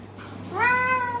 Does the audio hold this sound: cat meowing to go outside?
yes